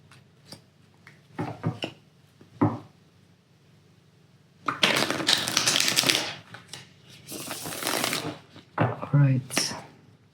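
Tarot cards from a seasonal deck being shuffled by hand: short riffling bursts early, then a longer, louder stretch of dense papery flutter and slapping, close up, with no talk.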